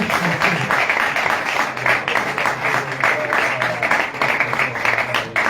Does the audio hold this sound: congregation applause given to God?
yes